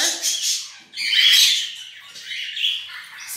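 A pink Bourke's parakeet gives a run of high, squeaky chirps and short calls in close succession, fairly loud and near, with no talking.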